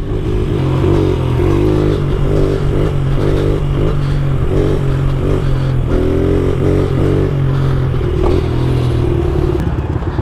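A 70cc pit bike engine running while riding, a loud continuous buzzing drone with rhythmic pulsing revs close to the listener, no talk over it.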